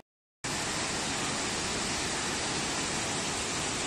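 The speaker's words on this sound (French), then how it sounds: "la cascade, voilà." Waterfall on Réunion island: a steady, broad rush of falling water starts abruptly and continues unbroken, moderately loud, with no voices.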